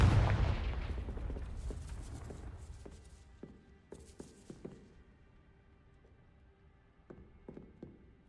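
A heavy magical blast erupts in Hogwarts Legacy, loud at first and then decaying into a long rumble, followed by scattered sharp knocks and small impacts as debris settles.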